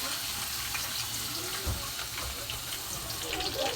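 Garlic frying in a pan for a Filipino ginamos sauté, a soft, steady sizzle with a brief stir or clatter partway through and no talking.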